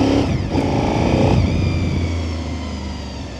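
A 2002 Honda VTR SP2 (RC51) V-twin superbike, about 200 kg and 135 hp with 42,587 km on it, runs with a loud, steady close engine note that shifts pitch as it revs partway through, with no talking.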